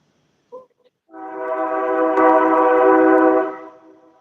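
A train sounds a long, loud horn blast near a rail bridge by a fishing spot at night, one steady chord that swells and holds for a few seconds before fading, preceded by a brief faint sound.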